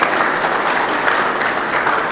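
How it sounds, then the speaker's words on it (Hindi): An audience claps steadily for village volunteers who run a library in Guda, a dense and continuous round of applause with no voices over it. "मैं चाहूँगा कि गुड़ा के इन साथियों के लिए भी हम तालियां बजाएं जो लाइब्रेरी चला रहे हैं"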